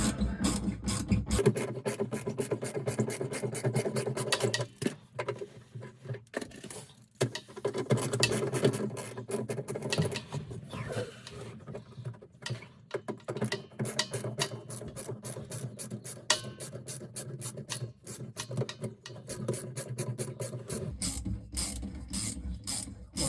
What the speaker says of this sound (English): Take these pipe clamps all the way off. So I'm unscrewing them completely.